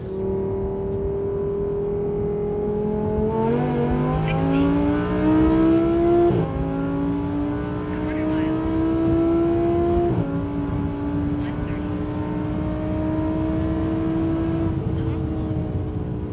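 A supercharged Audi R8, a rebuilt salvage-auction car, accelerates hard on a drag strip, its engine note climbing steadily through several gear shifts with brief dips at each change, loud and close throughout.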